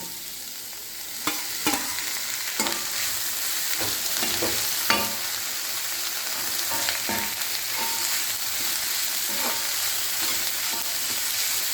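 Tomato sautéing with onion and ginger in a pan for a tomato kurma makes a steady, moderate sizzle with frequent spoon scrapes and clicks as it is stirred; no speech.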